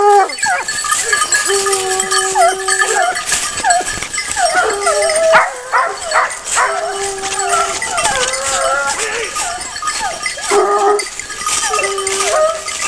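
A pack of Gascon hounds bays and howls outdoors during a hunt release, long overlapping cries rising and falling continuously, some near and loud, others farther off.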